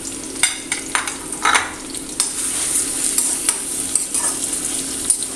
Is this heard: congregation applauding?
no